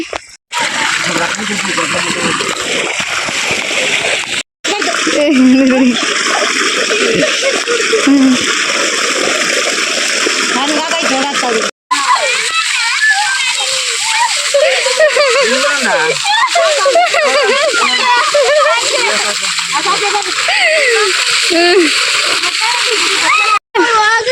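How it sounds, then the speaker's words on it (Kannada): Water gushing and splashing in a village ragi field, a loud continuous rush lasting throughout, with people talking over it. "ನೀರು ಬತ್ತೈತೆ"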